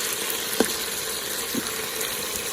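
Garlic sizzling in a pot with browned beef ribs, a steady frying hiss throughout with a couple of soft clinks near the start, no talking.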